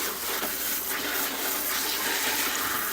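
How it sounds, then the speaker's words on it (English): Collard greens rinsed under a running kitchen tap, a steady broadband rush of water that stays loud and even for the whole three seconds, with no talking over it. "You have to always keep rinsing, rinsing, rinsing."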